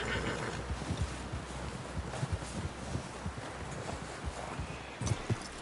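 A horse walks in the video game Red Dead Redemption 2, with soft irregular hoof clops over a windy outdoor background, fairly quiet and without speech.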